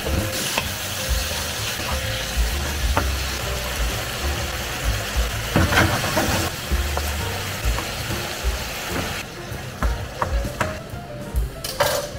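Squid sautéing in a pan for Filipino ginisang pusit gives a steady, fairly loud sizzle that runs the whole time, with scattered clicks and clatter from stirring.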